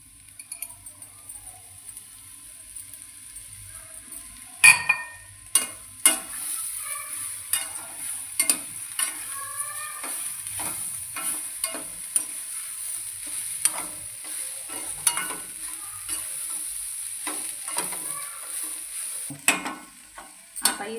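Roasted spiny gourd stir-fried in a pan, with repeated sharp spatula scrapes and knocks against the metal over a faint sizzle, coming in irregular bursts, close and fairly loud.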